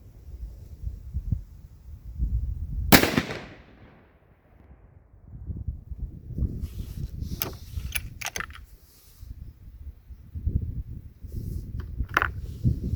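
A Mossberg Patriot Predator rifle fires a 6.5 Creedmoor handload: a single sharp report with a decaying tail, heard at moderate distance over a low background rumble, then faint scattered clicks and knocks.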